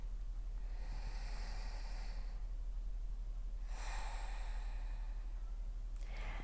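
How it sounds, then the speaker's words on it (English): Slow, deep belly breathing during a relaxation exercise, two long drawn breaths and the start of a third, soft and airy over a low steady hum. "I'd like you to start by taking a few deep breaths, deep belly breaths."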